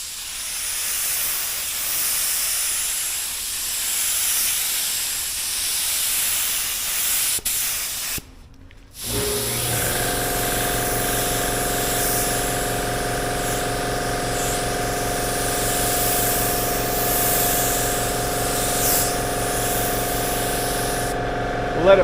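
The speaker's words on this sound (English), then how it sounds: "primer, low pressure, check this out. Very little overspray." A paint spray gun applies primer to a car body at low pressure, a breathy hiss that cuts out briefly, then resumes as a steady, tonal spray with a pump-like hum for over ten seconds.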